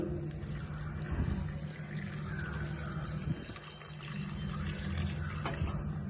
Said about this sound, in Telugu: ఇప్పుడు దీన్ని మనం సరిపడా నీళ్ళు పోసేసుకున్నాం కదండి